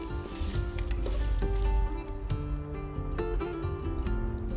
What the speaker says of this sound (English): Now we'll add the chilies. They don't have to be de-seeded, but it's up to you. We'll stir for a bit till they become slightly puffy.